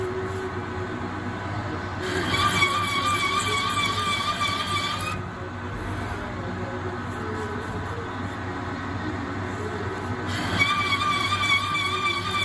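Lathe tool cutting a 65 mm by 2.0 pitch steel screw thread, giving a steady high metallic squeal over a constant machine drone, loudest in two stretches at the start and end.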